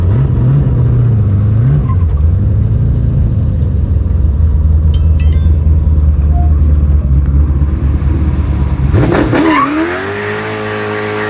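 A Mustang with a twin-turbo small-block Ford Dart 427 engine and stick shift roars through a sustained burnout, a dense, loud rumble with tire noise over several seconds before a revving rise and sudden drop near the end.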